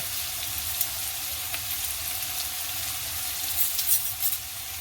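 Okra and ground spices such as allspice sizzle steadily in a pan, a continuous close frying hiss with occasional soft scrapes and clinks of stirring, no voices.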